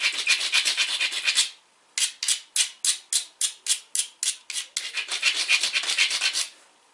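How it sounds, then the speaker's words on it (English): A Dacite Birdie disc golf disc being ground, heard as loud close rasping strokes: a continuous run, a series of about a dozen separate short scrapes, then another sustained stretch. "I'm going to give it a nice, good grind."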